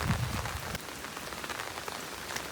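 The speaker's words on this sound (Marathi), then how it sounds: "पाऊस दिवसभर लागतोय." Heavy rain falls steadily on a roadside on the way to a river, a dense close hiss with scattered drop spatters and a brief louder low rumble at the start.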